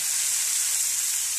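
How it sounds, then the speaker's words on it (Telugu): Bitter gourd pieces hit hot oil in a kadai, giving a steady, loud, bright sizzle that holds evenly with no talking. "ఆయిల్ అయితే వేడైపోయిందండి. దీనిలోకి నేను కాకరకాయలు వేసుకుంటున్నాను."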